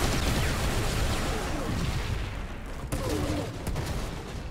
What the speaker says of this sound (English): a turret you plop down that shoots a bunch of artillery rockets for you